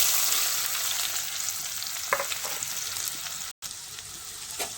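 Onions sizzle steadily in hot oil with cumin in a pan while being stirred for a Gujarati oro dish, a constant frying hiss broken by occasional scrape clicks and one brief dropout.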